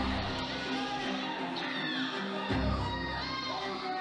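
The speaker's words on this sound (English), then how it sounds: "listen to that crowd" Spectators at a white belt grappling tournament cheer and shout in a sustained, rising roar. Individual voices yell through the crowd noise for about four seconds.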